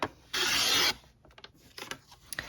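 A paper trimmer slices a card base: a single rasping cut of about half a second, then a few faint handling clicks and rustles.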